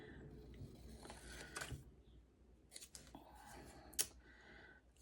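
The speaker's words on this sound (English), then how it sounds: "Let me cut out this one real quick." Scissors cutting out a paper label for a layered lace craft project, heard as a few faint, close snips and small clicks spread over a quiet background.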